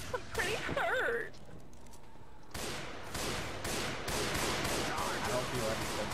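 Gunfire in the zombie shooter Left 4 Dead 2: a rapid, dense run of shots that comes in bursts, pauses briefly, then resumes as steady repeated cracks, heard amid game noise and brief voices.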